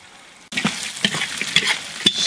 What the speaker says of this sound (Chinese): 再下入鸭脖和鸭掌炒至上色